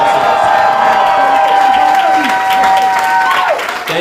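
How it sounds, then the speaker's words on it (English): A crowd at a Washington state election night event applauds volunteers with sustained clapping and a few cheers, steady and fairly loud throughout. "Give them a round of applause."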